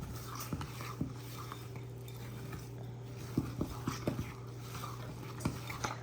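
A spoon stirs an old-fashioned oats mixture in a bowl, soft scraping with a few sharp clinks against the bowl toward the end, quiet and close over a low steady hum.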